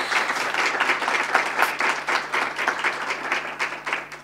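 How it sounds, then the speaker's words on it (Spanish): An audience at a talk gives a round of applause, with brisk, fairly distant clapping that pulses steadily for several seconds and has no talking over it. "pido un fuerte aplauso para los dos, para Laura y Miguel"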